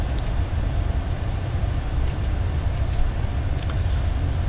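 Steady, unbroken low roar of aircraft engines in Microsoft Flight Simulator 2020 during a flight from Louisville to Rome, a dense droning rumble with no voices.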